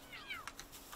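A cat-like creature in the video game Palworld gives a brief high, falling meow, followed by a few faint clicks and soft sounds, all fairly quiet.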